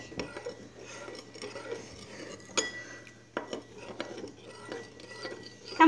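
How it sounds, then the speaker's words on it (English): A spoon clinks and scrapes against a bowl while someone stirs a jelly mixture to dissolve it, with irregular sharp taps over a quiet indoor background. "Stir it. Make sure it dissolves."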